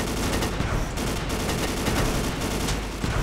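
Gunfire from the video game Ace of Spades rattles in dense, continuous bursts, loud and close with a gritty, crackling texture.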